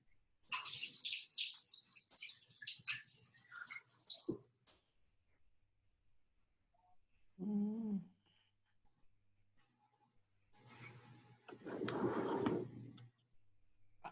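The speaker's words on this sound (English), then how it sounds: "Now I'm gonna wash my hands and try to mix it." A kitchen tap runs in bursts as hands are washed during a home baking class: gushing water near the start, a brief spoken moment, then water running again toward the end.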